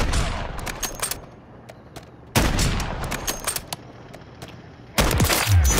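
Sniper and automatic gunfire in a first-person shooter, three loud bursts of rapid shots a couple of seconds apart, close and sharp, each trailing off into echo, with no voices over them.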